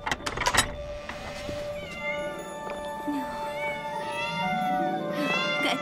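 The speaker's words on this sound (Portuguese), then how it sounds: "Gatinhos." Several kittens meow in a high, overlapping series, a few sharp cries at the start followed by thinner, wavering mews that carry on steadily under a soft background hum.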